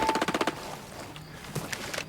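A quick burst of rapid gunshots in the video game Ghost Recon Breakpoint rattles at the start, followed by scattered fainter pops and ambient noise.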